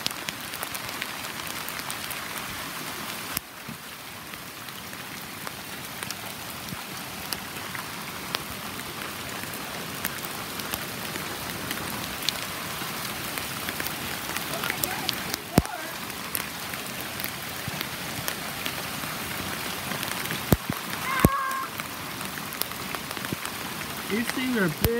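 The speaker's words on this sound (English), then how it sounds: "look at this hailstorm we're having" Large hailstones pelt down in a storm, a dense, steady rattling patter that stays loud and close for the whole stretch, with a few sharper knocks standing out.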